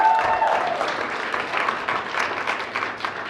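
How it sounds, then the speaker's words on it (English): An audience claps and applauds for coaches and facilitators at a leadership summit, a dense steady wash of many hands held at an even level from start to finish, with no voices rising above it. "Give them a round of applause."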